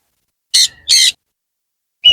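At a busy bird market selling lovebirds and Indian ringneck parrots, a parrot gives two loud, harsh squawks in quick succession, followed after a pause by the start of another brief call, close by.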